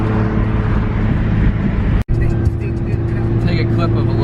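Nissan 350Z Nismo fitted with a Tomei exhaust, its engine droning loud and close with a steady low exhaust tone that cuts out for a split second then resumes, a voice talking over it.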